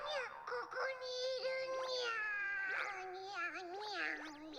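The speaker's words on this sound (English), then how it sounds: "This poor cat is suffering." Cats meowing and wailing in long, wavering, plaintive cries from an anime scene, several overlapping calls rising and falling in pitch, fairly close and continuous.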